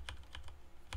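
Computer keyboard keys clicking during a Twitch gaming stream, a few quick, quiet taps at uneven intervals with no talk over them.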